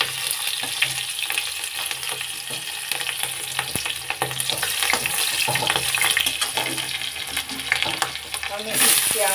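Green chilies going into a pan of frying egg and potato, a steady close sizzle with bursts of stirring and scraping throughout, rising slightly louder near the end.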